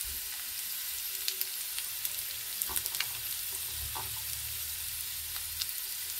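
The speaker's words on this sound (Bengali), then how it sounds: "সমস্ত সবজিগুলো লাল লাল করে ভাজা হয়ে গেছে" Vegetables frying until reddened in a pan as turmeric and other dry spices go in, a steady soft sizzle with a few scraping stirs and clicks, close and quiet, no voices.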